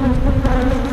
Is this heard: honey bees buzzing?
yes